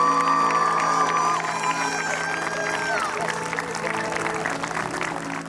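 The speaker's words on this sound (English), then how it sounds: "Can we have one last, well-deserved round of applause for all our senior boys players?" At a senior night for a boys high school soccer team, a crowd claps and cheers steadily, with whoops and voices mixed in under a tonal ringing that fades after a few seconds.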